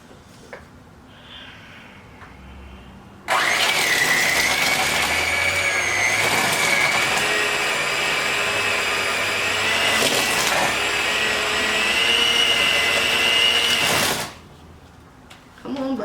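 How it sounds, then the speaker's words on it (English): An old electric hand mixer creams cake batter for a lemon pound cake, switching on abruptly with a loud steady whirring drone that runs about eleven seconds before cutting off. "let's get my trusty mixer that might be feasibly older than me at this point"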